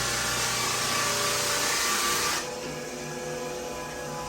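A barrel sander working a red oak hardwood floor, a loud steady whirring grind with a motor hum that drops to a lower, quieter drone partway through.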